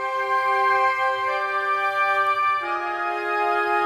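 A sustained woodwind ensemble patch holds a chord, then shifts to a new voicing midway, steady and close with no talking.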